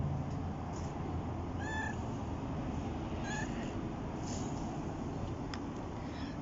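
A pet cat gives a couple of short meows, fairly close, over a steady outdoor background hiss with no talk.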